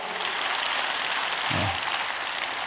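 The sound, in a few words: audience applause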